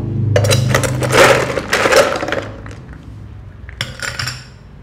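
Ice cubes clattering and clinking into a tall cocktail glass, a dense run of close, sharp knocks that thins out, then one more short cluster near the end.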